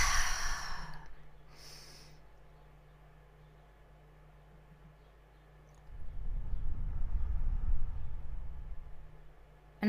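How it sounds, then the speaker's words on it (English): A person in a guided breathing exercise inhales sharply twice, pauses in near silence, then lets out a long, audible, breathy exhale that swells and fades, close to the microphone. "Take a deep breath."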